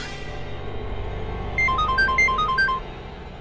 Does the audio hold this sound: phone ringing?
yes